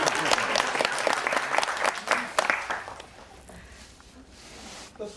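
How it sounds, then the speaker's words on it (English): Audience applause bursts out in a small venue, dense clapping that is loud at first and then thins and fades over a few seconds. "Round of applause, please."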